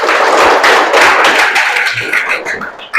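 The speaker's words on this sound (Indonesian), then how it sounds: "tepuk tangan untuk kamu" A class of students claps together in sustained applause during a school sports lesson, a dense, loud patter of many hands lasting a few seconds before it tapers off.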